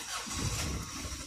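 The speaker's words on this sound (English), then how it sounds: "I'm going to crank it again so you hear it" A Hyundai Terracan engine cranks and catches, with a faulty start that nearly stumbles just after cranking: a dense, rough mechanical rumble runs steadily and fairly loud through the whole short stretch.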